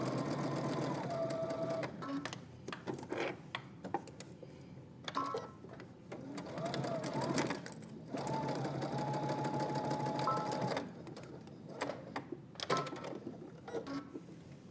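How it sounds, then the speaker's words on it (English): A sewing machine stitches a tie onto the front of a DVF x Vogue V2000 wrap dress, running in several bursts of steady rapid whirring separated by brief pauses, close and clear with no talking. "now you're gonna head to your sewing machine. We're gonna stitch our tie in place."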